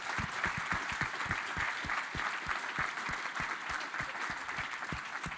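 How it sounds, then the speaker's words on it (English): A conference audience at a scientific plenary session and closing gives a sustained round of applause, dense and steady clapping from many hands throughout, with no talk over it. "So please, a round of applause for them."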